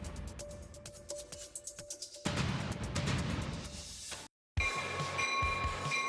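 A train rolling along the rails, with rhythmic wheel clacks building into a loud continuous rumble and a brief cut before the sound resumes; no talking.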